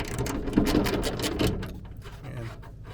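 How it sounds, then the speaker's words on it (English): A ratchet clicks rapidly through a series of quick ratcheting strokes on a 15mm socket while tightening a bolt, close and distinct, then eases off into lighter, scattered clicks. "we're going to take the 15mm socket"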